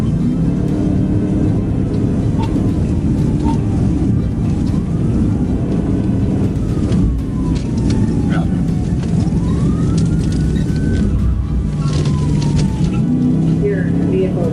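A police car siren wails and sweeps in pitch during a high-speed chase over 100 mph, over a heavy, continuous roar of road noise and rumble, with a voice partly audible in the mix.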